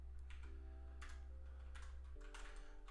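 Soft typing on a computer keyboard during coding comes in a few faint clusters of keystrokes over a low, steady background hum.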